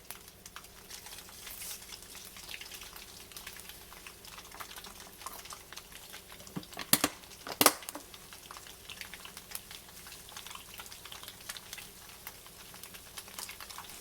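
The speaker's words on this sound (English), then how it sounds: "while that tofu is frying up" Steady crackling and sizzling of tofu frying in hot oil continues throughout, with two brief sharp clicks near the middle.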